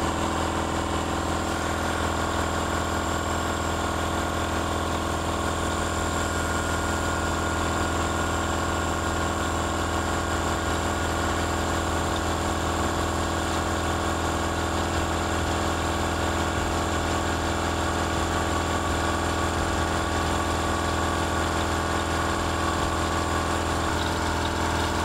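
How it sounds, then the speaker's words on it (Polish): A belt-driven piston air compressor runs at a steady, loud drone for the whole stretch, its motor humming continuously with a dense mechanical rattle and no voices. "więc teraz włączę kompresor"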